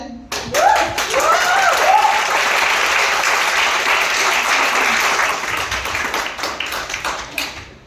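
Audience applause in a classroom-style session, loud dense clapping that fills most of the clip and then thins out toward the end, with some voices underneath.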